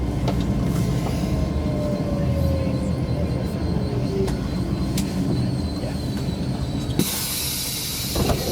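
A train at the Manchester Victoria station platform, loud continuous rumble and mechanical clatter with a hiss and faint squeals, then a sudden burst of bright hissing near the end.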